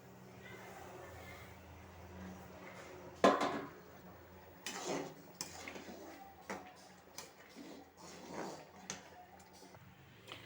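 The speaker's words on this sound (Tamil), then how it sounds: "ரவையை கொட்டி கிண்டிக்கிறோம்." Clattering pot and utensil sounds as semolina is poured into boiling water and stirred for upma, with scraping and knocks in irregular bursts over a quiet room background.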